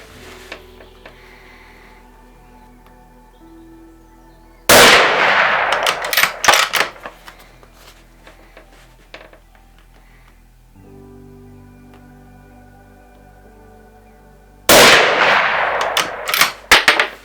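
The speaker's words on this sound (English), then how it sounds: "So let's shoot 2 more shots and see how they go." A Mauser M12 rifle in .308 fires two loud, sharp shots about ten seconds apart, each with a booming echoing tail, separated by quiet outdoor background.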